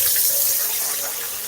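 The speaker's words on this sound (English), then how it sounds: "We're gonna get rid of this water" Water from soaking Jamaican salt fish pours out into a sink, a steady broadband rush of running water close by that holds through the whole moment and eases slightly toward the end.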